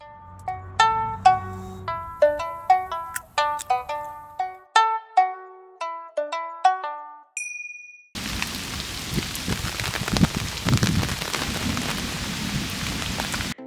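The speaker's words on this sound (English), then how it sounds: "come join me on this cozy rainy day" A short plinking melody gives way to steady rain falling outside on a cozy garden day, a dense, continuous hiss of drops on surfaces with a faint low rumble beneath.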